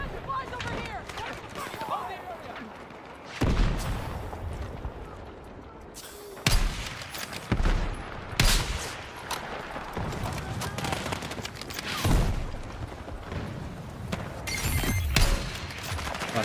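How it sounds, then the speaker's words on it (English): Sniper shots and other gunfire in the battle game Fortnite come as several loud, sharp cracks at irregular intervals, mixed with game noise and a player's voice. "I can't see where I'm getting sniped from."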